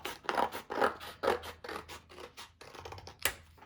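Scissors cut paper for a homemade dry erase calendar, making close, crisp snips and rasping slices in an uneven rhythm of several strokes.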